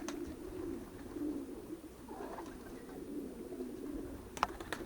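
Soft, low cooing of homing pigeons repeats steadily against a faint outdoor background, with a brief sharp click near the end.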